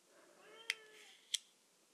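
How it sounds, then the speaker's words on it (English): A house cat meows at a closed bedroom door to be let in, two short, clear meows about half a second apart, fairly close and alone in a quiet room. "I have, like, a cat that's, like, meowing to get into my room right now"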